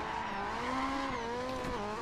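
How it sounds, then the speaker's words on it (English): A Ford RS200 Group B rally car in DiRT 4 rallycross roars with a loud, continuous engine note whose pitch rises and dips as it revs. "I really like the sound of this car"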